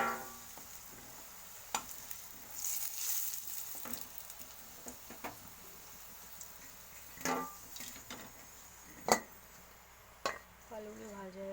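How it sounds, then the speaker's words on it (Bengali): Potatoes fried golden brown in a kitchen pan are lifted out of sizzling oil, a steady soft sizzle broken by a few sharp metallic clinks of the utensil. "আলুগুলোকে আমি তুলে নিচ্ছি।"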